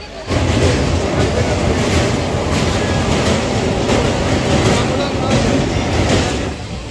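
A passenger train running on rails on a trip toward Digha in hot weather, a loud steady interior rumble with rattling carriage noise throughout.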